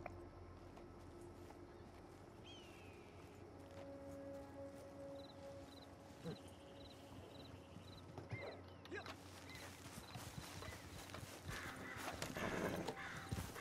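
Horse hooves clip-clopping in a video game as riders set off on a posse mission, a soft steady rhythm of hoofbeats under quiet ambient sound and faint game effects.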